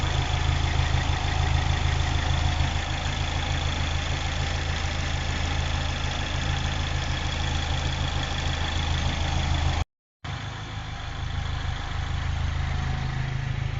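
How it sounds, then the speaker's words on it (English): An R56 Mini Cooper S engine idles steadily up close with a constant low hum and faint ticking, broken by a brief dropout before the same even idle resumes. "I'm going to now shut the engine down and see if I can hear any hissing apart from the auxiliary water pump."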